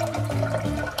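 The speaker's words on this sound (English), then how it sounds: "Add some water." Water pours steadily into a cooking pot of soaked red beans, a continuous close splashing and filling sound through the whole short stretch.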